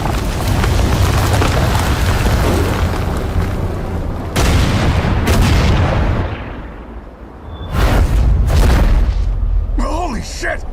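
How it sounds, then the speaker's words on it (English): Heavy cannon fire from naval ships booms in a Valkyria Chronicles 4 battle, several loud low blasts breaking through a steady roar of wind and sea, with sharp bursts near the end. "Cannon fire!"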